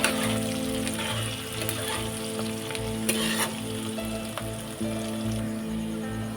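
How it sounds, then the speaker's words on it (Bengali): Onions frying in a pan for a home-style chicken curry, a dense loud crackling sizzle with sharp pops and bursts of stirring, alongside a low steady hum. "দেখো, পেঁয়াজগুলো আমি ভেজে নিচ্ছি।"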